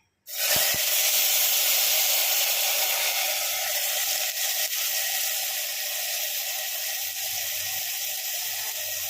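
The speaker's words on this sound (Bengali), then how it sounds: "এখানে আমি এবারে এই ভেজানো ডালটা পুরোটা ঢেলে দেবো।" Soaked motor dal poured into a hot tempering, bursting into a sudden loud hiss that holds steady and close for several seconds, easing only slightly.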